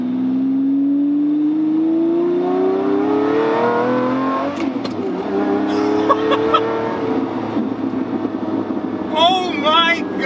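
A Lamborghini accelerates hard at full throttle, its engine note climbing steadily in pitch for several seconds, then dropping into rougher revving with gear changes; a voice shouts excitedly near the end.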